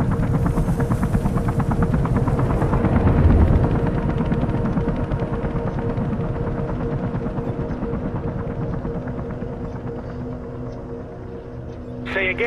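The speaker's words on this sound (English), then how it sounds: "Of course we'd go to the helicopter." A helicopter in the video game Mirror's Edge drones with a loud, continuous rotor chop and engine roar, steady close-up throughout, easing slightly near the end.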